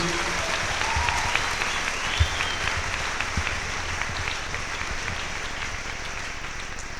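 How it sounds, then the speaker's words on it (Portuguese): A church congregation gives a long, steady round of applause during a worship service, a dense even wash of clapping with no voices standing out. "Uma forte salva de palmas para o nosso bom Deus"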